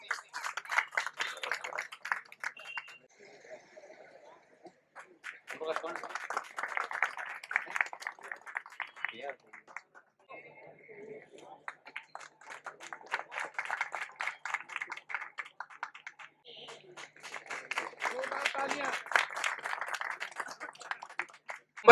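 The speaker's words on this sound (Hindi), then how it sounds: "जिनका हम जोरदार तालियों के साथ स्वागत करते हैं" Audience applause at a New Year gathering of the CPWD SC/ST Association, welcoming a guest: several bursts of clapping from a crowd, swelling and fading with short pauses between rounds.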